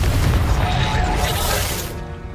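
A Confringo spell explosion in the video game Hogwarts Legacy, a loud, close, booming blast with a dense rumble that slowly fades over about two seconds.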